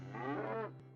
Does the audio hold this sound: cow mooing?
yes